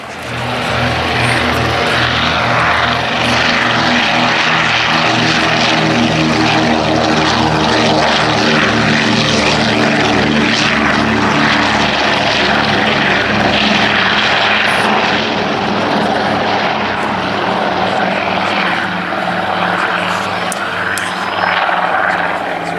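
A propeller aircraft flies at the Duxford Air Festival 2017 air show, its loud engine drone holding steady and unbroken for the whole stretch with a low harmonic hum.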